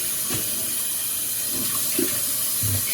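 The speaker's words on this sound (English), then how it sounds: "Same with this, you can just run the water through there." Water runs through the parts of a Miops water drop splash kit while they are being cleaned, making a steady faucet-like flow with soft gurgles and small splashes.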